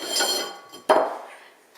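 Mixing bowls handled while making a basic cookie dough, a scraping rub followed by a single sharp clink as a bowl is set down, close and fairly quiet, then stillness.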